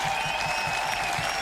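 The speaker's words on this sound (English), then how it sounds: "Listen to these applause." Audience applause at a national celebration marking Israel's 75th Independence Day, a steady wash of clapping sustained across the short stretch, with a faint tonal hum above it.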